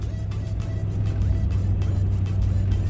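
A Mercury Marquis driving, with a steady low engine drone and road rumble from inside the car, loud and continuous, with a slight rise in engine pitch and no speech.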